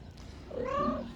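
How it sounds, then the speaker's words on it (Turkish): A kitten meows in a drawn-out, rising and falling cry, close and fairly clear, over a soft, low rumble in the background. "Ay ay nasıl da mırmırlanırmış."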